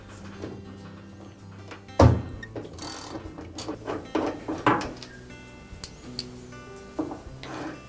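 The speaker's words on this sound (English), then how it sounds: "So we'll remove that 7/16 bolt that secures that drive block to the transmission." A ratchet works a 7/16 bolt off the drive block on a GE washer transmission, giving short mechanical clicks and metallic knocks in irregular bursts, close up, with a sharper clank near the start.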